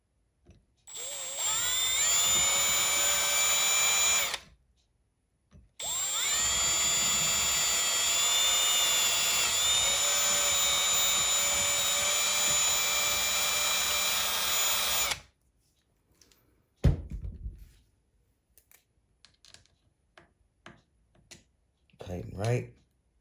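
A power drill fitted with a 3.9 millimeter bit drills out a hole in two long, loud, high whining bursts separated by a short pause, followed by scattered clicks and handling noises.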